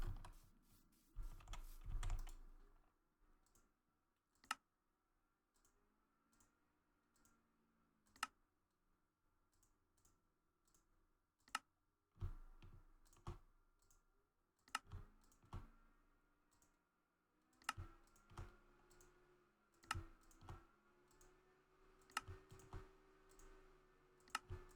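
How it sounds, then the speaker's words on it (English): Rapid mouse clicks while crafting items in a computer game, coming in scattered sharp bursts and single taps over a quiet background hum, close and crisp with no talking. "Easy-ish crafting. It's just a lot of clicking, really."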